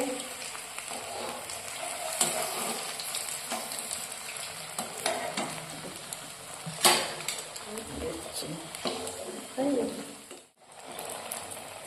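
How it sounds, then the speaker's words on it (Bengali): Vegetable chops frying in hot oil give a steady, close sizzle with brief clinks of utensils and a few sharper crackles along the way. "ভেজিটেবিল চপ ভাজা হচ্ছে"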